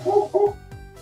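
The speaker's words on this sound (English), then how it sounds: "barking dogs." Dogs barking somewhere nearby during a 3D printer frame build, two quick loud barks close together, then quieter trailing yips with a soft hum behind.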